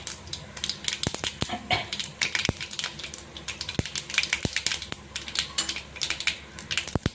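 Mustard seeds and dried red chillies sizzle in hot oil for a tempering in a home kitchen, giving a dense, continuous crackle of sharp pops and spits, close and steady throughout.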